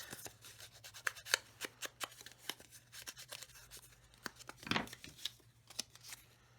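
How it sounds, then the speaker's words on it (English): Scissors snip through folded cardstock at an angle, a series of crisp, close, quiet cuts in an irregular rhythm with soft paper rustling between them. "I take my scissors and I just cut at an angle and then ink those edges"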